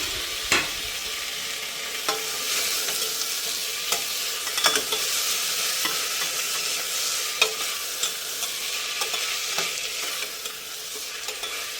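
Tomato and coriander leaves fry in a pan for a fish curry, giving a steady, dense sizzle with scattered sharp pops and spoon scrapes throughout, close and alone without voices.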